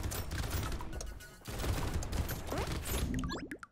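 Rapid bursts of shotgun fire from the Brotato video game, dense overlapping electronic blasts and pops running almost continuously, loud and busy with a brief dip midway, no talk.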